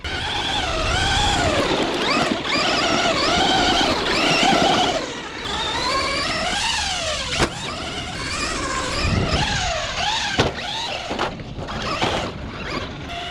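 A Traxxas Stampede 4x4 RC truck runs through dirt at an RC track, its small electric motor whining and rising and falling in pitch continuously, with bumps and jolts from jumps and landings and no talking.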